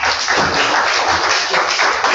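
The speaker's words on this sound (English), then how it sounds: "let's give our panelists a round of applause" Brief burst of audience applause for panelists at a county economic development forum, dense and steady clapping with no talk over it.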